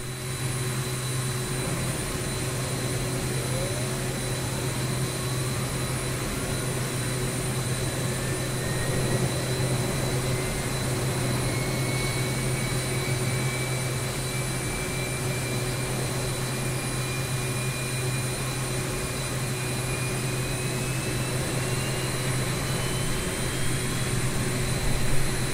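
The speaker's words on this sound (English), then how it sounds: "Start the left engine similarly." A T-38C Talon jet engine in a flight simulator spools up, a loud steady roar with a high whine slowly rising in pitch over a continuous low hum, no voices.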